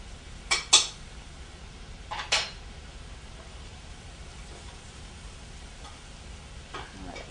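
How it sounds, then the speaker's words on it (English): Okra browning in butter in a pan is stirred with a utensil, producing a few sharp clinks and scrapes against the metal over a faint, steady sizzle, then quieter occasional taps. "I want to stir it and coat it with all the butter that's in here. And I'm going to brown it."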